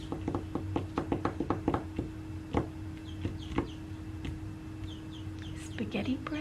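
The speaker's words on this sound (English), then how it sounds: "I'm just going to listen to the chickens" Chickens cluck in a quick run of short, sharp clucks at the start, then sparser clucks and scratchy calls follow, moderately close, with voices in the background.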